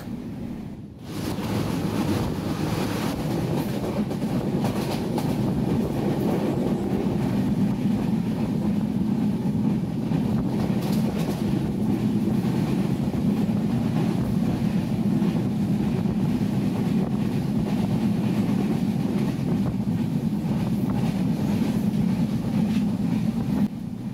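A passenger train runs between Dhaka and Rajshahi, heard from inside the carriage as a loud, steady rumble with constant wind roar and rattling, unbroken for the whole stretch, with no talk.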